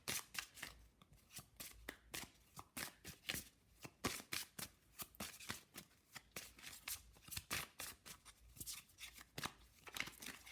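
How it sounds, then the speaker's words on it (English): Witch's Wisdom Oracle cards being shuffled by hand, a quick irregular run of crisp riffling slaps and flutters, close and fairly quiet, with no talking. "I'm gonna pull some Witch's Wisdom Oracle cards for you"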